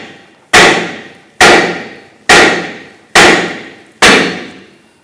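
A hammer strikes the steering knuckle of a 2006-2010 Hummer H3 five times to separate the ball joint, each loud metallic bang evenly spaced under a second apart and ringing briefly before the next.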